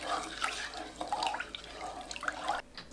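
Water poured into a cooking pot for a celery pickle brine, a continuous splashing and gurgling stream, close and fairly steady, ending abruptly near the end.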